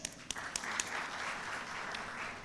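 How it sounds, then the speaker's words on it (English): An audience at a medical meeting applauds, a steady wash of clapping from a room full of people with a few sharper claps at the start, heard without talk. "deserves a round of applause"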